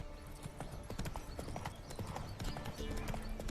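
Quick clip-clopping of horse hooves in a video game, a dense rapid gallop heard close and continuous through the short stretch, with no voices.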